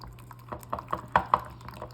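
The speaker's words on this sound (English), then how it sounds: "Now we're gonna go ahead and whisk these up." Eggs are whisked in a bowl with light, irregular liquid clicks and splashes, a handful of soft taps spread over two seconds, quiet and close.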